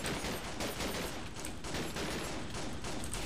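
Dense continuous gunfire in a Minecraft GTA-style war game, a loud rapid stream of shots without pause, no talking.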